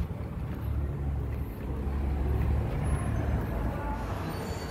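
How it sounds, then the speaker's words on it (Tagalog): Busy roadside traffic beside Manila Cathedral at Christmastime, a steady broadband rumble of cars, buses and trucks passing close by with brief air-brake hiss, continuous throughout. "Ito medyo maraming sasakyan pag nung oras dito sa gilid."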